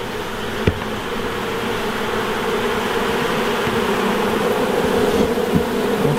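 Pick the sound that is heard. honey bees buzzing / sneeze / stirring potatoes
honey bees buzzing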